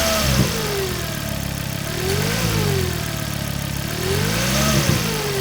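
A Ford Focus ST225 engine runs steadily up close, its pitch rising and falling as it revs, with a whining tone from a failing alternator riding over the hum.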